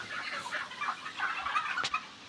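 A flock of chickens on a poultry farm clucks and chatters together in a busy, continuous murmur, with occasional sharper calls standing out.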